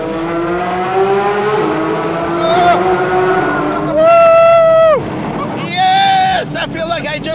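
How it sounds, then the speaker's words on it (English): Porsche 992 GT3 RS exhaust roaring inside a tunnel, loud and close, with rising revs, sharp upshifts and bursts of acceleration echoing off the walls while excited voices talk over it. "We gotta go under the tunnel to hear this raw exhaust on this car."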